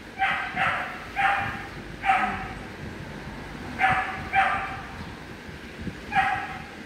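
Several dogs bark in short separate bursts, about seven yips and barks spread across the stretch, fairly close over a low steady background rumble.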